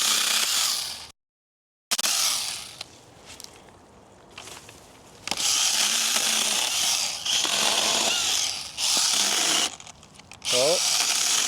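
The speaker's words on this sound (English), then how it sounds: "You're using a chainsaw that's actually intended to be used with one hand." A one-handed battery chainsaw cuts through a small branch about half an inch thick, loud whining bursts of cutting that start and stop, with a short dropout and brief handling noise between cuts.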